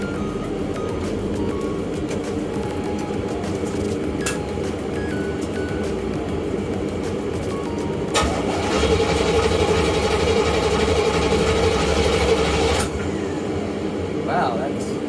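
A 1987 Corvette engine starts and idles with a steady, close rumble that swells louder for a few seconds partway through, then settles back to an even idle.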